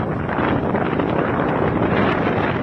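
Strong wind in Batanes, Philippines, roars steadily and loudly against the microphone, a dense, unbroken buffeting rush with no voices.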